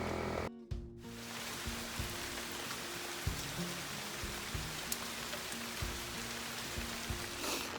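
Steady rain pours outdoors beside a school bus being converted into a skoolie, a continuous hiss with occasional heavier drips and patters on a hard surface.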